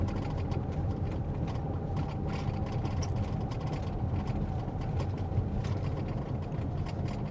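A Toyota Sienna minivan with on-demand all-wheel drive rolls along an unpaved road at night, its engine holding a steady low rumble under constant road and cabin noise as it accelerates gently, with no talk.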